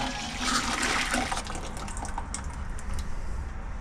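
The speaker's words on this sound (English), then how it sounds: "we're gonna add our sauce to the boil" Sauce poured into a pot of boiling Mexican meatball soup (caldo de albóndigas), a steady, fairly loud rush of liquid splashing into the bubbling broth for several seconds without talk.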